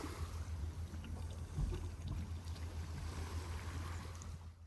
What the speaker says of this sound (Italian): vi lascio un po' al silenzio e al suono del mare